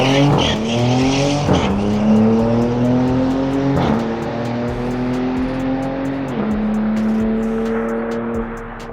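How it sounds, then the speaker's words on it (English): A Dodge Charger Sixpack Scat Pack with all-wheel drive roars loudly up close, its exhaust climbing through several gears with sharp shift breaks between pulls, and tires squeal along the way. "the new exhaust sound that this car has sounds like an M5"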